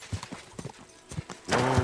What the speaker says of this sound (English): I don't know if I'm allowed to bring my horse in here.